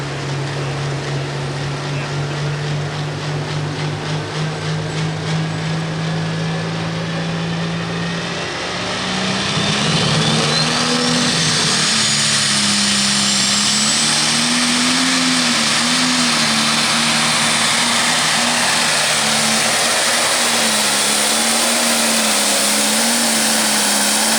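Mini class pulling vehicle at a truck and tractor pull in Hillsboro, Wisconsin: a loud engine drone that climbs into a sustained high roar and holds, wavering in pitch, with an announcer's voice partly under it.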